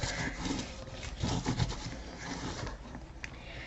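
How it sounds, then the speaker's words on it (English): Pressed pages of a handmade book are burnished with steady, close-up rubbing strokes that give a dry, rasping swish, with no voices. "Let's press it and burnish."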